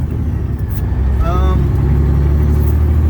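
A truck hauling a load pulls out onto US 31 South, heard from the cab as a heavy, continuous low engine drone that builds slightly, with a brief navigation-style voice prompt partway through.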